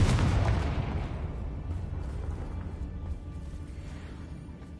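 Booming spell blast from the Confringo curse in the Hogwarts Legacy game, a loud burst at the start that rolls into a long, dense rumble fading slowly over several seconds.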